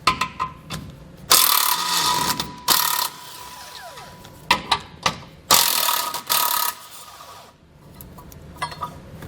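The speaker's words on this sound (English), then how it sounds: "Now we're able to remove our tow hooks. And to do that, we're going to pull out these two 15mm bolts." A hand ratchet works out 15mm tow hook bolts on a vehicle's frame, giving bursts of rapid clicking pawl sound separated by short pauses and a few light metallic knocks, close and moderately loud.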